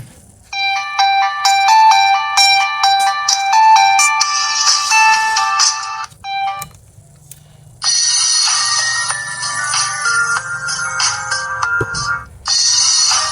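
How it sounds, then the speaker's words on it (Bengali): A Marlex MX 107M keypad phone plays its ringtone loudly and close up as a bright electronic melody of repeated note patterns, with a short pause before a second, denser ringtone starts and runs to the end. "ফোনটির রিংটোনের সাউন্ড আমি একটু শুনবো"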